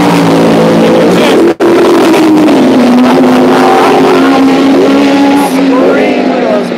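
Old V10 race cars at Mondello race track scream past up close, a loud sustained high engine whine that shifts pitch as they pass, with talk mixed in beneath the roar.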